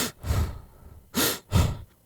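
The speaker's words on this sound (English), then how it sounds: "breathes heavily through his mouth" A man breathes heavily through his mouth in three nervous, ragged gasps, close and loud, with short pauses between each breath.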